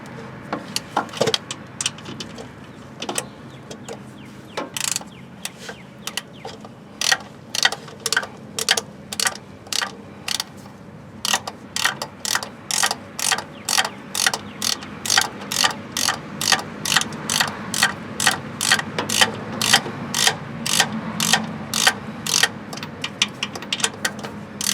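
A hand ratchet tightens the starter bolt on a 2002 Ford F150 with a 4.2L V6, a starter install: fast, loud, close clicking in steady bursts of short pawl ticks, repeating in a regular rhythm of short strokes, no talk.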